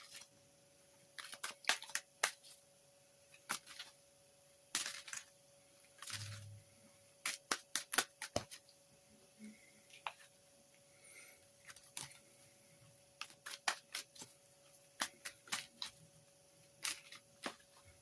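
Tarot cards handled, shuffled and drawn at a quiet table, a scattered series of soft, crisp card snaps and slides with brief gaps between them, close and faint against near silence.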